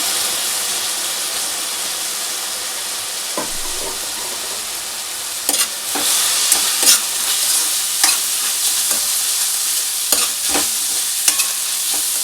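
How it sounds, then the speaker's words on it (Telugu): Vegetable fried rice made from leftover rice stir-frying with a spoon of vinegar just added, a steady loud sizzle and steam hiss with intermittent scraping and stirring clatters. "ఇలా ఒక 5 మినిట్స్ ఫ్రై చేసుకోండి."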